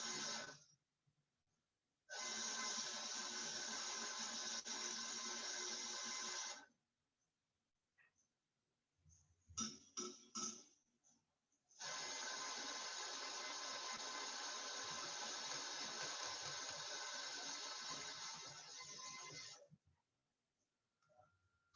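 Coffee grinder running twice on a dose of coffee, two long continuous buzzing grinds separated by a pause with a few light knocks and taps, close and alone.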